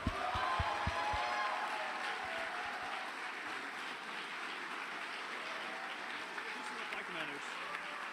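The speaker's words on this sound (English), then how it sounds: "Let's give them a round of applause." Fitness award winners at an Air Force ROTC change of command ceremony get applause from the gathering, steady moderate clapping running throughout, with some talking mixed in near the start.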